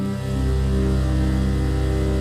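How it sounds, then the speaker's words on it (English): A theremin-like instrument played by sliding a ring along a wire gives a loud, sustained, buzzy tone that wavers slightly in pitch, heard alone without voices. "You're moving a ring along a wire to create that wavering sound"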